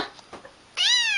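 After a few soft rustles, a cute cat lets out a single loud, drawn-out meow close by, holding its pitch before easing down.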